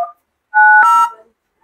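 A mobile phone keypad sounds two short tonal beeps, the second longer and steadier, with a brief click partway through. Nothing else is heard around them.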